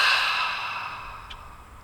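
A single deep exhaled breath during a relaxation breathwork exercise, a soft airy sigh, close and fading gradually, with no talk.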